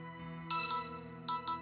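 A phone ringtone sounds indoors in a Hindi TV drama scene, two short bright double chirps repeating over a steady soft background tone, fairly clear and close.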